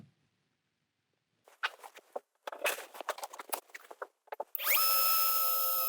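A few seconds of handling and tapping noises, then a power drill spins up and bores steadily into the sheet metal of a Ford Transit van, a loud, sustained, whining buzz heard at close range.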